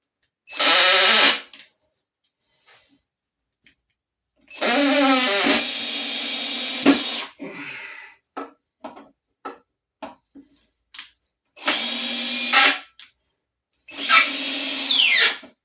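A power drill drives 3-inch screws into garage shelving in loud, close bursts of whirring that rise as each screw bites, separated by quiet gaps with light clicks and handling knocks.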